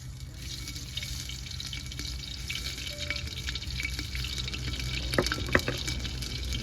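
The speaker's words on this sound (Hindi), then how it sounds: "अगर हमारी प्याज ये पक रही है यानी रोस्ट हो रही है।" Onions roast in oil with cumin, crushed ginger, garlic and green chilli in a handi pot, a steady close sizzle and crackle with bright spitting pops that swell slightly toward the end.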